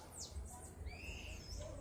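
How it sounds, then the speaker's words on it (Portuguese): Birdsong outdoors at an open-air street market, quiet whistled calls and sweeping chirps above a low rumble of background noise, faint and somewhat far off. "Vocês ouçam assim, ó, melhor, o canto dos pássaros."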